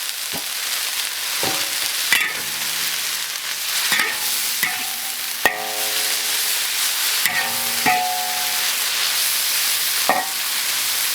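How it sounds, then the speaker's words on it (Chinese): Chopped coriander is stir-fried in a hot wok, giving a continuous close sizzle broken by repeated sharp scrapes and clinks of the spatula against the metal at an irregular rhythm. "首先这样下香菜，2滴香菜下锅"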